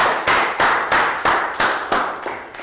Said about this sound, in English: Big round of applause for Prel for demonstrating.